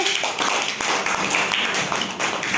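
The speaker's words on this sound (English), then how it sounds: "All of you clap for Rahul" Schoolchildren in a classroom clap together for a classmate, a dense, close burst of uneven hand claps lasting a couple of seconds.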